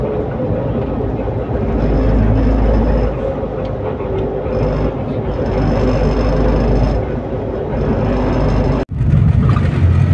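Steady road rumble and engine drone inside a moving car travelling toward Batangas, loud and continuous throughout, with a short sharp dropout near the end.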